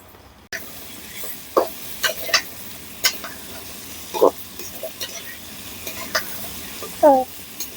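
Potatoes frying in a pan while being stirred, a steady sizzle broken by a string of sharp scraping and clattering stirs, close by with no talking.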